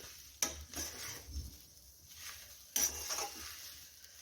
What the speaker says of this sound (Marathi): तर अशा प्रकारे सर्व भाज्या आपण फिरवून घेत आहोत